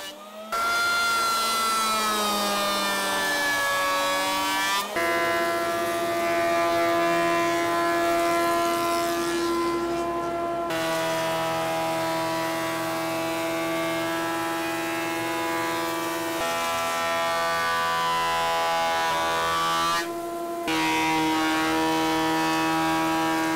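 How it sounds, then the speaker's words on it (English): A handheld electric planer runs over an elm board, giving a loud, continuous whining motor drone whose pitch shifts in steps every few seconds as the tool works along the wood. "I can very easily use a handheld planer to bring the level down to the level of the rest of the board."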